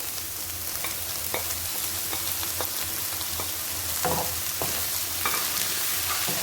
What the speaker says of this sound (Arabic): البصله ها هي بدات كتشحر. غنزيدو عليها الفلفله